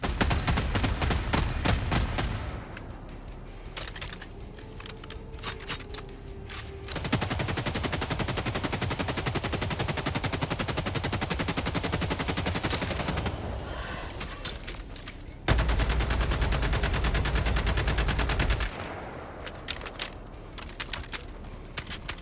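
Long automatic bursts of weapon fire in Helldivers 2 come as loud, rapid, sustained streams of shots, broken by short pauses and shifts in tone between bursts.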